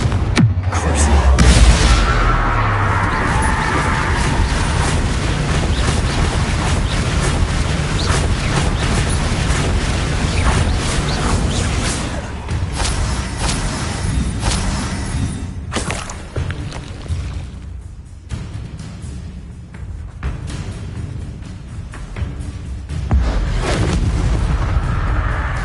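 Bombarda and Confringo spell blasts in Hogwarts Legacy, a continuous series of heavy booming explosions and thuds with crackling debris, loud and dense throughout, with a voice speaking now and then.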